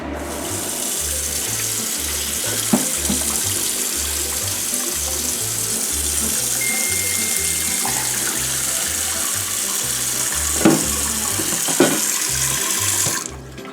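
Kitchen tap water runs steadily into a cooking pot used for boiling potatoes, a continuous close, loud rush with faint clinks over a low rhythmic hum in the background.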